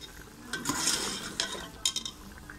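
Mutton curry with potatoes sizzling in oil in a pot, stirred with a spoon in a home kitchen, giving steady frying hiss with a few sharp scrapes and clinks of utensil against the pan.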